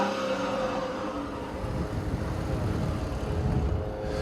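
Steady engine drone inside a 2014 Chrysler 300C with its Pentastar engine while driving, a low, even hum with road rumble underneath, held at constant revs and fairly quiet.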